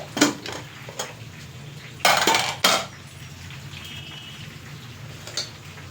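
A pressure cooker of pulao is opened with a few sharp metallic clanks and knocks of the lid against the pot, separated by quiet pauses, close by.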